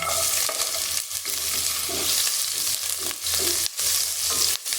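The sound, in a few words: ginger frying in a little oil until golden brown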